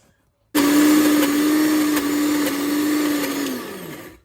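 An electric mixer grinder blends peri peri masala paste with a little sunflower oil, a loud steady whirring motor that starts abruptly, holds a constant hum for about three seconds, then winds down, with no talking.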